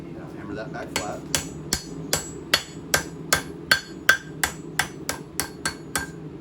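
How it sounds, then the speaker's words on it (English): Steady hammer blows on a steel knife blade being flattened at a forge, about a dozen sharp metallic strikes in an even rhythm, close and loud, with no talking. "Now hammer that back flat."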